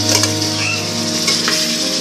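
Mutton marinated in ginger garlic paste, salt and black pepper sautéing with onions in a pan for Parsi salli boti, giving a steady, close sizzle with a faint stirring scrape and no talk.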